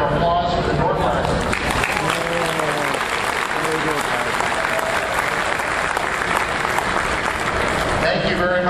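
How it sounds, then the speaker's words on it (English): An audience at the Dayton Hamvention 2010 amateur radio convention gives a loud, sustained round of applause for the door prizes, with a voice over the start and end of the dense clapping. "I'd like to hear a round of applause for the door prizes."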